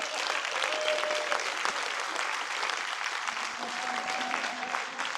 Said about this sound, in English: let's give a big round of applause for my buddy